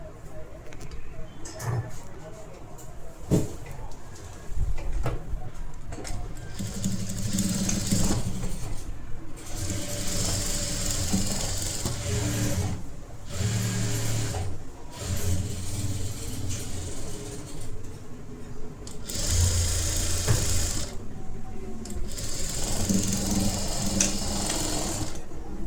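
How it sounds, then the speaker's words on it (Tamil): Electric sewing machine stitching a blouse seam, running in steady bursts of rapid needle chatter that start and stop with short pauses, close and fairly loud with faint room noise between runs. "இப்போ இதை ஸ்டிச் பண்ணிக்கோங்க."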